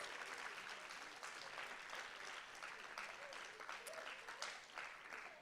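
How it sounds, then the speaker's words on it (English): An audience at a storytelling show gives the night's storytellers a round of applause, steady dense clapping from a crowd filling the whole stretch at an even level. "And to all our storytellers for the night, let's give them another round of applause."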